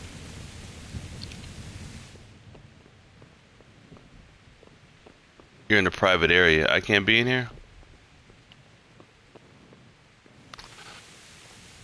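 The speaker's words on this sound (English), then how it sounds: "I'm trying to get out the rain." Steady rain hiss in the video game Kingdom Come: Deliverance, a constant wash that quiets for several seconds then returns, with someone speaking briefly over it mid-clip.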